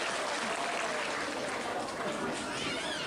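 An audience at a religious gathering in Wonosobo applauds in a dense, steady wash of clapping that holds at an even level throughout, with crowd murmur mixed in.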